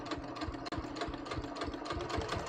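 A sewing machine runs steadily while stitching along the top of double-faced linen knit shorts, its rapid even needle rhythm close and continuous with one brief break.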